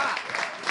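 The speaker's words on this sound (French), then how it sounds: "s'il vous plaît, applaudissez le coup" A television studio audience applauds a guest on a French talk-show set, a dense, even patter of many hands filling the whole short moment.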